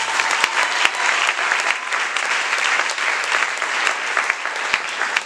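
Church congregation applauding at a French-language sermon service, a steady, dense clapping from a crowd that carries on for the whole stretch with a few sharper individual claps standing out.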